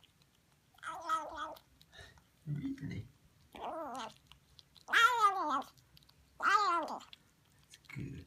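A kitten meowing, a run of several drawn-out, rising and falling meows spaced a second or two apart, close and fairly loud, with a brief spoken word in between.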